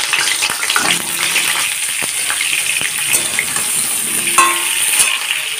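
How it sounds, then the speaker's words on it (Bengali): Potatoes sizzle in hot mustard oil in a wok, a steady bright crackle with scattered pops and a few soft clinks of stirring, close and continuous with no talk. "কড়াইতে দিয়ে দিয়েছি সর্ষের তেল, আর তেলটা গরম হয়ে যেতেই আলুগুলোকে দিয়ে দেব"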